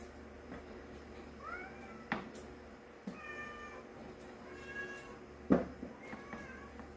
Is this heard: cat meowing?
yes